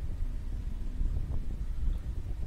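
Strong gusty wind at a canal boat mooring, buffeting the microphone with a low, rumbling roar that swells and eases for a couple of seconds.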